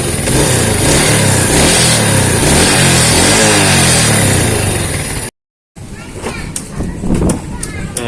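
Yamaha Vega motorcycle fitted with a Shogun 110 CDI, started on the double starter: a close, loud engine runs and revs steadily, cuts out for a moment, then carries on at a lower, uneven idle.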